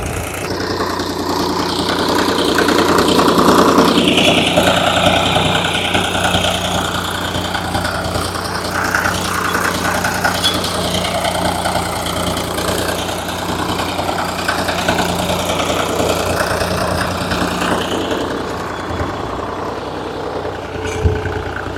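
A tractor engine chugs steadily while pulling a 9-tine plough through a field, a loud continuous rumble with some variation in load and no speech.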